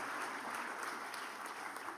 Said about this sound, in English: go ahead and give them a round of applause.